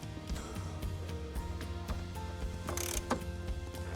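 Ratchet tightening bolts on a boat's aft knee, a quick run of close, crisp clicking and mechanical ticks, fairly quiet with no talk.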